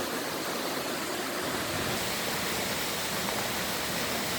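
A river flowing strongly in mid-July along a walking path, a steady broadband rush of water that stays even and continuous throughout, with no voices.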